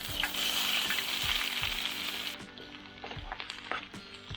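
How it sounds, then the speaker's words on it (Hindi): Onions tossed into hot oil with cumin in a pan while cooking outdoors at a jungle campsite in Kodaikanal, giving a loud, steady sizzle that eases midway, with stirring clinks and scrapes. "अब हम इसमें डालेंगे ये अनियन"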